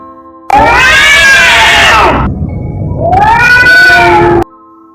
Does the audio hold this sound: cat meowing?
yes